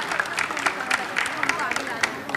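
An audience applauds after an answer at a public question session, scattered clapping mixed with crowd murmur, moderately loud and continuous through the moment.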